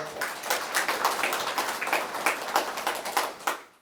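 An audience at the 16th Im Jong-guk Award ceremony gives a modest round of applause, individual claps distinct and fairly soft, fading out at the end.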